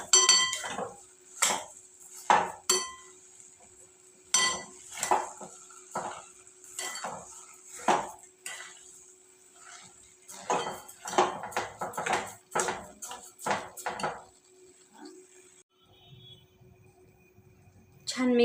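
Carrot halwa being stirred with sugar in a pan, a metal spoon scraping and clinking against the pan in repeated close, irregular strokes, alone without talk.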